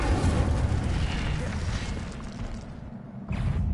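Casting the Incendio fire spell in the game Hogwarts Legacy produces a loud, sustained whooshing roar of flame with a deep rumbling body, easing slightly before a fresh burst near the end.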